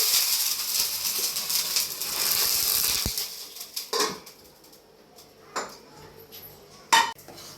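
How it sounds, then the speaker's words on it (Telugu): A metal lid is set down on a pot of dal tadka, giving a sharp clank among lighter metallic clinks and scrapes of kitchenware, close and fairly loud, with no talking. "సో వెంటనే లిడ్ అయితే క్లోజ్ చేసుకోండి"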